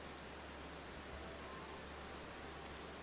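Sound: rain and storm in a farming video game

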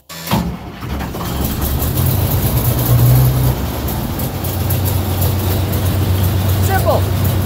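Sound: tractor engine starting without glow plugs

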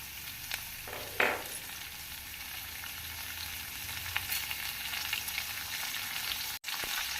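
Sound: onions and chillies frying in pan

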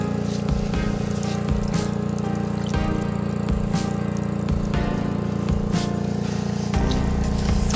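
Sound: generator running beside river for electric fishing

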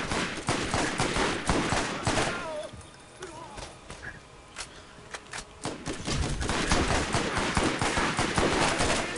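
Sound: sniper rifle gunfire in the video game Borderlands

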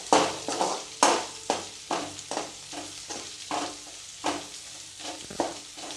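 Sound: garlic paste frying in a pan

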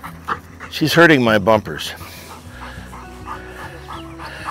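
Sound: dog panting during a retriever lining drill

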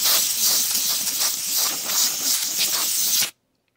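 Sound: freeze mist spray can sprayed upside down

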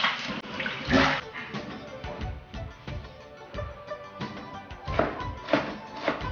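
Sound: washing soaked dried vegetables in water

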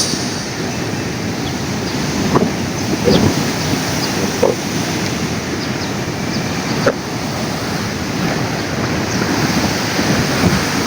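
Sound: strong sea waves and surf with wind

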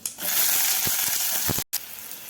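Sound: tempering spices and onion frying in hot oil

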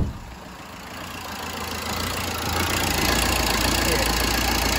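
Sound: Peugeot Bipper 1.3 litre diesel van engine idling

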